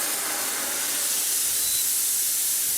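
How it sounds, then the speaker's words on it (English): A jet of steam sprayed onto a cold countertop, a loud steady hiss lasting throughout, close and unbroken. "let's see if we can try this by shooting steam on it"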